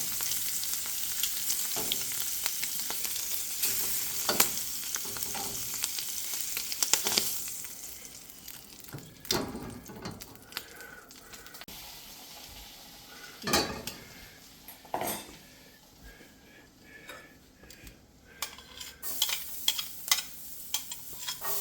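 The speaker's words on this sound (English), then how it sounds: "I added the shallots and garlic, and I'm trying to get the nutty flavor" Shallots and garlic sauté in a pan that held shrimp, a steady close frying hiss broken by repeated scrapes and clinks of a utensil against the metal pan, with no talking.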